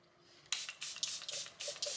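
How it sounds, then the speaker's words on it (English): Charlotte Tilbury Airbrush Flawless Setting Spray misted over finished makeup in several close, hissing spritzes that come in quick succession after a quiet start. "I'm gonna go ahead and set everything in place with the Charlotte Tilbury Airbrush Flawless Setting Spray"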